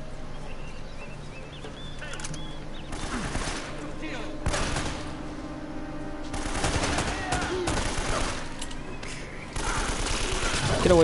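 Gunfire from the video game Uncharted, bursts of rapid shots scattered through a noisy game soundscape, loud and repeated at irregular intervals amid effects and background action.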